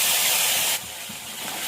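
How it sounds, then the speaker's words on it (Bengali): Onion paste fries in hot mustard oil in a pan with a loud, close, steady sizzling hiss that drops suddenly to a quieter, continuing sizzle partway through. "পেঁয়াজ বাটাটা একটু কষিয়ে নেবো তেলের সঙ্গে"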